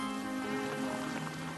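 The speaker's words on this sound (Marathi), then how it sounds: "मस्त पाऊस," Steady rain falls in a continuous hiss near a roadside tea stall, an even wash of sound with no talking.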